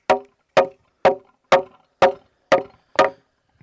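A hammer knocking a wooden H-brace post, seven sharp evenly spaced blows about half a second apart, loud and close with short ringing decay and no talk.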